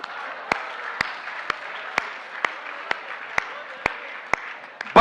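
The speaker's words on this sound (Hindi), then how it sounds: "जिसको खुशी हो ताली बजाना" Comedy show audience giving a light, sparse round of applause, with single distinct claps landing in a loose steady rhythm, fairly faint and without talk.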